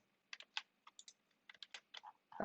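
Commands are typed at a computer keyboard, a close, quiet series of separate key clicks in short uneven bursts with brief pauses between them, ending in a slightly heavier tap, with no talk.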